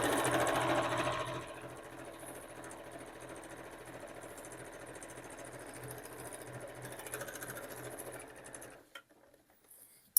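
A sewing machine stitches around a fabric book sleeve in a steady, fast mechanical run, louder at the start, then stops near the end, leaving quiet.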